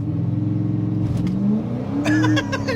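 A Mercury Grand Marquis V8 revs hard with traction control off, its engine climbing in pitch as the rear tires slide, with a brief sharper squeal and rise near the end.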